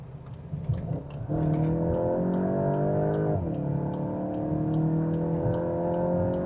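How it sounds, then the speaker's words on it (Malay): A Volkswagen Golf GTI Mk8.5 in sports mode downshifts to second gear. The engine hum steps up in pitch, holds, then dips briefly before settling into a steady close drone. "That's downshift to second gear tadi tu."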